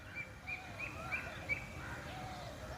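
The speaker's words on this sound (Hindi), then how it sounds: "कोयल बोलती है, चिड़ियाँ बोलती हैं," Morning birdsong with small birds chirping in a repeated pattern of short, thin calls, faint and steady over a soft outdoor background, with no talking.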